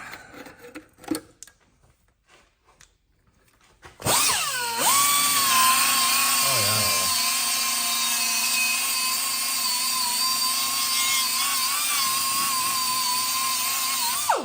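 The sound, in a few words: 3M Roloc buffing disc buffing metal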